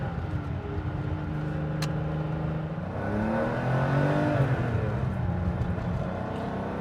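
A modified 1985 Porsche 930 Turbo with a 3.4-liter engine pulls at part throttle on a road drive, a steady close engine drone that rises in pitch and swells slightly partway through.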